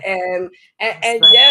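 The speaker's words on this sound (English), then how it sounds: "that's my smoke alarm" A home smoke alarm sounds a steady high-pitched electronic tone over someone talking loudly, the piercing beep cutting in partway through and continuing under her voice.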